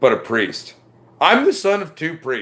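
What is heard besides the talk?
No everyday noises stand out.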